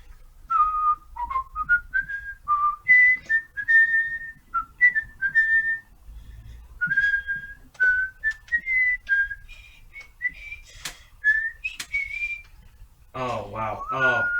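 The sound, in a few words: person whistling a TV theme tune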